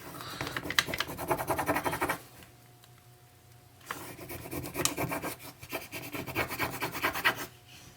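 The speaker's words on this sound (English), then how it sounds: "I don't always have to do all this rubbing while I'm lifting." A rub-on furniture transfer pressed onto wooden coasters, with dry, raspy rubbing strokes in quick bursts, up close, pausing briefly in the middle before resuming.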